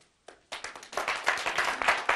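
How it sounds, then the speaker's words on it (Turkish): Audience applause at a Karadeniz Show live stage event: a few scattered claps quickly swell into steady, full clapping from a crowd, close and lively, with no talk over it. "Bir alkış daha lütfen"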